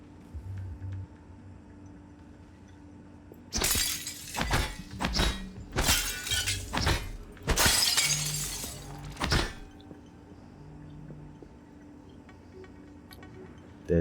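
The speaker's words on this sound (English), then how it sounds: "You want to smash the window and use the recycling charge on them" Window glass smashing in the game Prey: several sharp, loud shattering crashes in quick succession over a few seconds, separated by brief pauses, with quiet ambient hum before and after.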